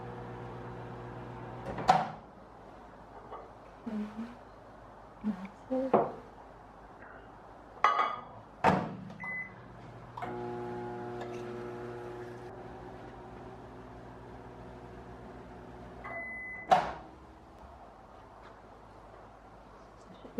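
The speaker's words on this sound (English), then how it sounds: "I'm gonna microwave these because you want them hot." A microwave oven hums steadily with a low drone, punctuated by sharp clicks and thumps of a door and cupboard, ending with a beep.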